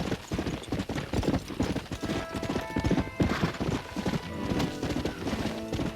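Galloping horse hooves clip-clop in a fast, steady rhythm throughout the Red Dead Redemption game scene, with faint tonal game sounds behind, loud and close.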